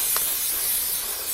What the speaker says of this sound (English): Just spray the stub shaft with silicone spray just to get the help the bearing slide on